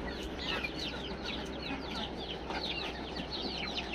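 Chickens cluck steadily on a farm in overlapping calls with a few sharper squawks, set against a constant low hum and background noise.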